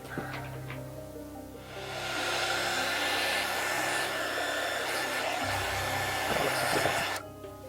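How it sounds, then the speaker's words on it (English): Heat gun blowing hot air over heat shrink tubing on a repaired extension cord, a steady loud whooshing roar that starts after a quiet moment and runs for several seconds before switching off. "I'm gonna go grab a heat gun."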